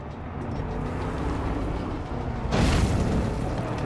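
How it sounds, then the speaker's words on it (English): A loud, close explosion bursts from a Far Cry 5: Dead Living Zombies game level, a sudden broadband blast about two and a half seconds in that rises over a steady rumbling game background and then decays. "Our hero hits the jump and wham! There's an explosion!"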